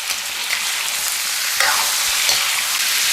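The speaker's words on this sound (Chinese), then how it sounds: "这个煸肉呢是做卤肉的第一步，主要是要把五花肉当中含有的脂肪给它煸出一部分啊" Fatty pork belly sears in a hot pan, the first step of Taiwanese braised pork rice. It makes a dense, steady sizzle with a few crackles and pops from the fat, close up and with no voices.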